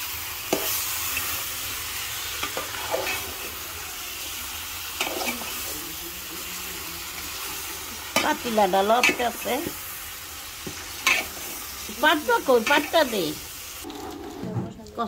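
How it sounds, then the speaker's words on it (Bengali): Spatula scraping and stirring radish with spices in a sizzling wok, with repeated strokes over a steady fry, and a few chirpy sounds in the background. "এখন আমরা এটাকে নাড়াচাড়া করে এটার সাথে মশলাগুলো মিক্স করব"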